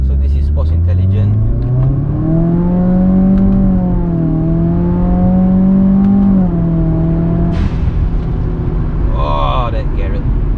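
An automatic Subaru WRX with a twin-scroll turbo pulls hard from inside the cabin, the engine note rising steadily and then easing as it shifts, loud and continuous, with a brief sharp whoosh near the end.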